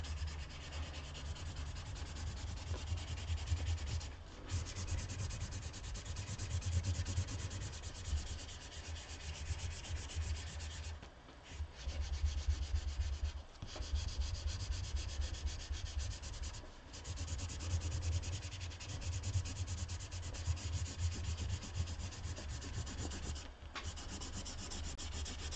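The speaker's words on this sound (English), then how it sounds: "we'll just burnish really hard from this side, see how it works." A monoprint sheet is burnished hard by hand, giving a continuous dry rubbing and scraping sound close up, steady strokes with a few brief pauses and no talking.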